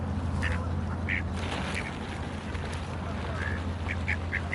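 Ducks quack repeatedly in short nasal bursts at a park pond with pigeons nearby, scattered calls at moderate distance over steady outdoor background noise.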